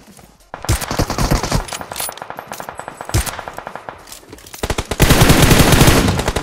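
Rapid automatic gunfire from PUBG Mobile comes in repeated close, loud bursts of clattering shots, with short pauses between them and a dense final volley.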